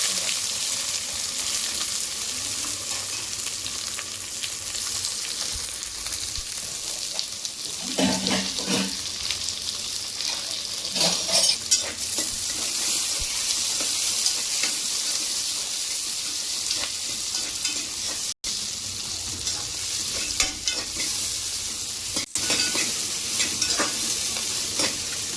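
Spices and onion fry in hot oil in a pressure cooker on the stove for tomato rice, a steady crackling sizzle with occasional stirring scrapes and brief bursts of running water, close and continuous.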